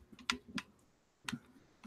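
Keys on a keyboard clack in two short bursts of quick taps while searching the Xbox store, close and fairly quiet, with a pause between them and no talking.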